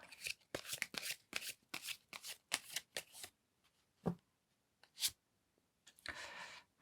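Tarot cards being shuffled in a quick run of quiet, close riffling bursts, then a pause broken by a couple of single card snaps and a final soft shuffle.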